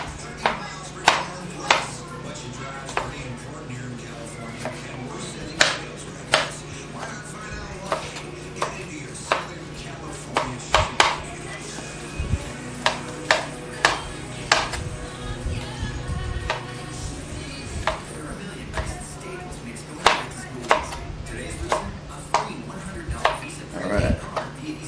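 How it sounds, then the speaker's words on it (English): Vegetables being chopped small for kebabs, with sharp knife strikes on a board landing in uneven bursts over a low steady hum, close and fairly loud. "Cut all these things up nice and small."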